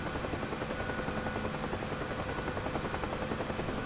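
A UH-1H Huey helicopter in the DCS flight simulator, heard from inside as a constant loud rotor and turbine drone with a steady rhythmic blade thump and no talk.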